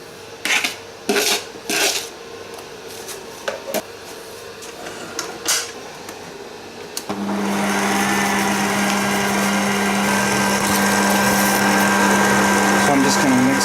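An electric mixer stirring firm whipped cream with vanilla and sugar in a bowl for gingerbread house icing, starting after some clattering and then running as a steady loud whine with a humming tone.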